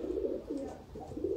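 Ali wala breed pigeons cooing softly in a short series of low, rounded coos, fairly faint with a little background noise.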